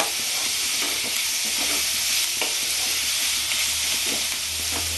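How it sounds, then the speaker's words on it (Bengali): Garlic paste browns in hot oil in a pan, giving a dense, even sizzle with soft stirring scrapes throughout, near and uninterrupted by speech. "এটা আমি একটু বাদামি করে ভাজবো"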